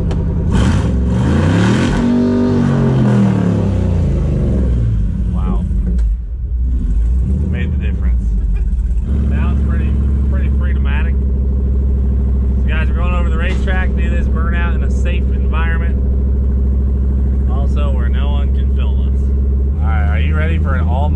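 A 220,000-mile A/C work van with its rev limiter set at 6,000 roars with a loud, steady droning rumble, while people talk over it at the start.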